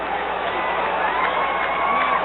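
A capacity crowd at the 1993 Class A state championship high school football game, Biddeford Tigers against Waterville, a steady dense roar of murmuring and cheering filling the stands, heard from a distance.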